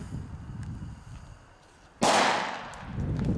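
An Xplode double-bang firework tube goes off with a single sudden, loud crack midway through, its bright burst decaying over a second against a steady outdoor background rumble.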